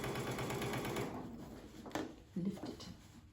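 Twin-needle sewing machine stitching a heavy quilt binding fold, a steady rapid mechanical whir for the first second that then stops, leaving quieter handling noises and a voice speaking.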